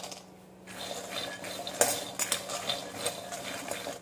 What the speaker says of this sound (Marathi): शेंगदाणे मी छान भाजून घेणार आहे.